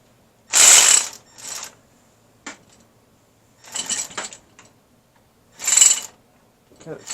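A ratchet wrench working a bolt on a car's timing belt cover, heard as several close, loud bursts of rapid clicking separated by short pauses, along with a few lighter metallic taps.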